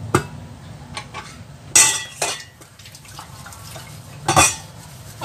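Dishes, pots and cutlery clink and knock during a wash with baking soda, with a few sharp, bright clatters at irregular intervals over a soft background hum and some splashing water.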